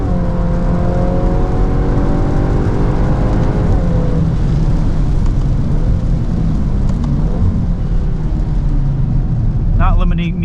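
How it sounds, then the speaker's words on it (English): A 2025 Volkswagen Golf R with all-wheel drive accelerates out of a corner on the Road America track, its engine a steady loud drone that climbs in pitch over the first few seconds before levelling off, with a driver talking over it. "All-wheel drive pulling us out of that corner nicely"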